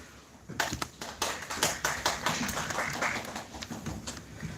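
Students at a youth church service applauding during the announcements, a crowd of hands clapping in a lively scattered patter that builds quickly and continues steadily at moderate volume.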